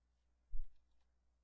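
A single soft mouse click on a computer, faint and isolated in a quiet room.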